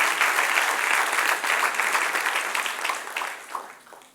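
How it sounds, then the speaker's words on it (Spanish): A church congregation applauds at a service, a dense burst of clapping from many hands that fills the room and gradually tapers off over a few seconds. "Dale un aplauso al Señor"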